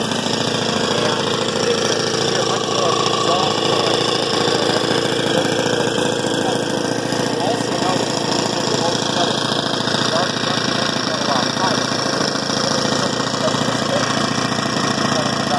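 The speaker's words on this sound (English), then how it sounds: "Because there's very little load, the engine is going to have a tendency to run a little bit faster" A Sato four-stroke single-cylinder engine in a hybrid drone generator runs steadily under very light load, a loud continuous close-up drone with a knocking texture and a high whine throughout.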